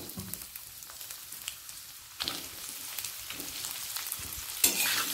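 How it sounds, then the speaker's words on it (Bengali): Potatoes drop into hot oil and fry with a crackling sizzle, stirred now and then, the hiss jumping louder midway and again near the end. "আলুটা হালকা লাল করে প্রথমে ভেজে নেব"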